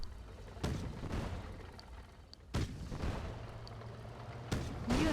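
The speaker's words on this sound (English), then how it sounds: "I'm not totally sure why that tank shot at that truck" Tank cannon fire in Command & Conquer Red Alert 2, a tank shooting at a truck: three sharp booming shots spaced about two seconds apart over a low continuous game rumble, with no talk.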